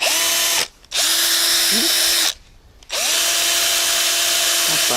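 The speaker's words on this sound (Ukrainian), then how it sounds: "Беремо шуруповерт" A cordless drill-driver spins up in three bursts with two short pauses between, loud and close, its whine rising to a steady pitch as it scales a perch or tench.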